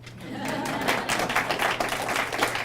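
Children at a school breakfast event at Adams Elementary clap in a quick, scattered patter, a moderate burst of applause filling the room under a low hum.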